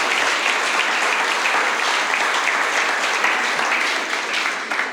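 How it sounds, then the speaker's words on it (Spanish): A church congregation claps during a Spanish-language sermon, a dense, sustained round of applause that stays loud and even throughout. "Dele un aplauso al Señor."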